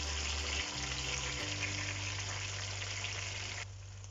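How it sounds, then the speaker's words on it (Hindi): Tomatoes fry in a pan for pulao with a steady, close sizzle and crackle that runs continuously, dropping slightly quieter near the end. "2 से 3 मिनट तक इसको मैं अच्छे से फ्राई कर लूँगी, और ताकि हमारे टमाटर जो हैं वो सॉफ्ट हो जाए।"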